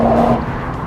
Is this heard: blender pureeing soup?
no